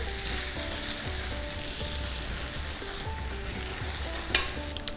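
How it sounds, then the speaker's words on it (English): Sausages frying in hot oil in a pan, a steady close sizzle and crackle throughout with occasional pops and light clinks of utensils, no talking. "The oil is hot enough, straight away sausages going in there."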